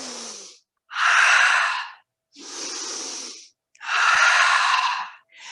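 Fast, exaggerated breathing during a yoga session, four loud airy breaths alternating in and out in a steady rhythm, close to the microphone and with no talking.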